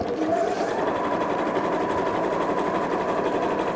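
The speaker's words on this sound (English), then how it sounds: "I do love the sound of a sewing" A sewing machine stitches fabric in a steady, rapid mechanical whir, close and continuous at an even pace for the whole stretch, with no talking over it.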